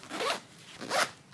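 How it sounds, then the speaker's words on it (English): Two quick zipper pulls close a compression packing bag, each a brisk close rasp of about a third of a second, separated by a short pause. "And I just kind of tuck in as I'm zipping."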